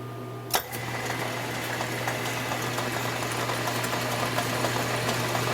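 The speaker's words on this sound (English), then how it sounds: "I put it in the lathe and we're going to turn it on and take a look." A lathe turning a bent mower-deck spindle runs with a steady, loud mechanical hum and a constant low whir, starting with a sharp click of the switch and then holding an even drone.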